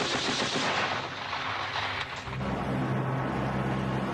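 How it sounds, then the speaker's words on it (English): Loud, dense battlefield gunfire from German troops before the D-Day invasion: heavy booming shots and rolling blasts that fill the space, then settle into a rumbling low roar. "Just before we move out, someone starts firing at us."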